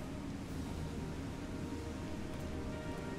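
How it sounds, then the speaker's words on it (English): Rain falls steadily in a Final Fantasy XIV: Shadowbringers cutscene, a constant soft wash of drops at an even level throughout, with no one speaking. "I love the rain, but it just makes the cutscenes look weird."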